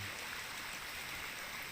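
A fast, strong stream current gushes steadily after heavy rain, a constant broadband rush of water, faint and distant, with no voices.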